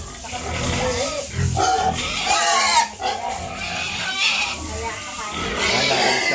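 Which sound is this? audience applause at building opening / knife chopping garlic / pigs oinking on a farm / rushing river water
pigs oinking on a farm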